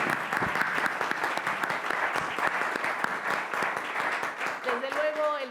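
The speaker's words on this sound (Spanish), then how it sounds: "para quien pido un aplauso." An audience at a public-sector event applauds a speaker with steady, fairly loud clapping throughout, and a voice starts to come through near the end.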